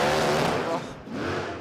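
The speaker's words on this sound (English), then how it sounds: "Blazes tyres." A drag car at the 2025 Garrett Adelaide Jamboree roars loud and close in a sustained tyre-spinning burnout, engine howling over squealing rubber, with a brief dip before the roar picks up again; voices are heard beneath it.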